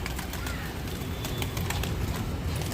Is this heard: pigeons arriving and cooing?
yes